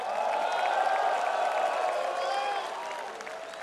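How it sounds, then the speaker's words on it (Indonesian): Crowd at a PKB party anniversary event in Indonesia greeting Gerindra chairman Prabowo, a mix of clapping, cheering and voices from a large audience, loud at first then easing off. "Tepuk tangannya dahsyat penuh rasa cinta."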